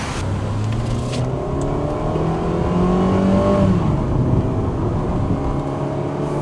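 A 2021 Mitsubishi car accelerates hard from 0 to 100, engine note climbing steadily in pitch, loud and droning from inside the cabin, with one gear change partway through.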